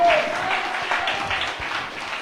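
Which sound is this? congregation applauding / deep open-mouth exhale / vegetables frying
congregation applauding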